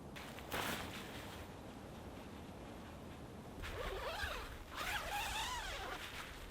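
A zipper runs along the mesh door of a OneTigris bug tent in two quick pulls with a short pause between them, close and quiet against a soft outdoor background.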